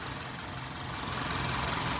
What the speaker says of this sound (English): If you're not familiar with direct injection, you're hearing the pulsing of the injectors.